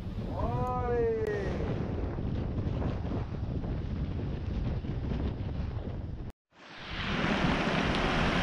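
Wind and sea slosh around a small fishing boat off Marseille in winter, a loud continuous rush with heavy microphone buffeting and a brief dropout, plus a short whistling squeal near the start.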